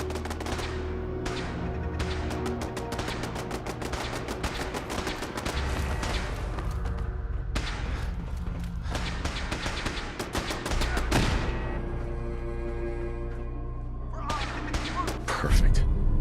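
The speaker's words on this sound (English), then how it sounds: "Remain vigilant, we've got turrets ahead. Triggers the turrets." Automated turrets open fire in the video game Fallout 4, sustained rapid bursts of gunfire crackling over a steady low in-game drone, with a couple of brief pauses and a heavier thump near the end.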